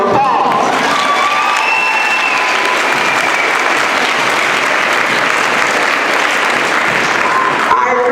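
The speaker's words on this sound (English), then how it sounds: "Let's have a round of applause." Audience applause and cheering at a speech event honoring Martin Luther King Jr.: dense, steady clapping from a large crowd with scattered cheers, loud and sustained throughout, fading briefly at the end.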